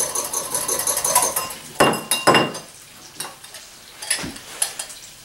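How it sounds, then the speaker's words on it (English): Vinaigrette stirred in a dish with a utensil, giving scraping, clinking strokes in uneven bursts, close and moderately loud, with faint kitchen sizzle in the background and no talk. "We'll give our vinaigrette another stir here."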